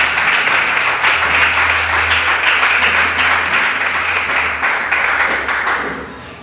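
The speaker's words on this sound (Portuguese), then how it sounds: "Dê uma linda salva de palmas ao Senhor Jesus." A church congregation claps in a steady, enthusiastic round of applause, many hands close and loud over a low hum, fading slightly toward the end.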